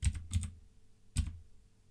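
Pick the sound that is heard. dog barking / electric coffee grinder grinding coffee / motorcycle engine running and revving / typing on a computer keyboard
typing on a computer keyboard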